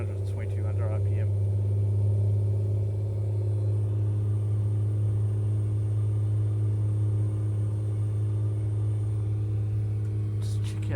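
A Rockwell Commander 114 engine drones steadily in a flight video game as power is raised toward about 2100 to 2200 RPM, a loud, constant low rumble with faint brief clicks at the start and end.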